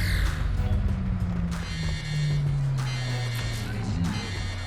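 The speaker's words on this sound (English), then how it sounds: "takes the device, triggering alarms" Alarms go off in a Guardians of the Galaxy film scene inside the Kyln prison when a device is taken, giving a steady buzzing electronic tone over rumbling background noise, loud and continuous with no voices.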